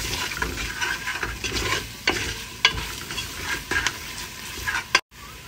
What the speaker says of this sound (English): And then we're gonna give it a nice little mix.